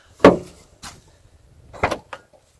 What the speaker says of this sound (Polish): Klamka tylnych lewych drzwi.